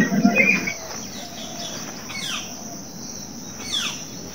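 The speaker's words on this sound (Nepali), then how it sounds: "चराको आवाज सुन्नुभयो होला नि त," Outdoors, birds give a couple of brief, thin descending chirps over a steady bed of insect buzz, after a short burst of closer noise at the start.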